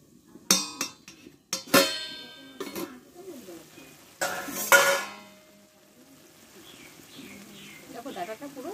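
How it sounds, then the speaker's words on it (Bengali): Lid lifted off a pan of boiled vegetable stalks with a metallic clatter, followed by bursts of scraping and stirring, a brief sizzle, then quieter kitchen sounds with soft bird chirps in the background. "এবার ঢাকনাটা আমি তুলে নেবো, হয়তো ডাটাটা সিদ্ধ হয়ে গেছে"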